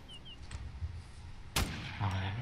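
A single gunshot fired at a boss in the video game Infestation Survivor Stories, one sharp burst in the middle of quiet game ambience, followed by a low hum.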